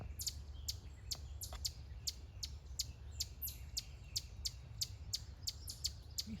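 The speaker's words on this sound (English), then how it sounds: "That little chipping noise you hear, that's the noise that these chipmunks make." Chipmunks on a park nature trail give a rapid series of sharp, high chipping calls, about a dozen evenly spaced chips that sound much like a bird, faint against a soft outdoor background.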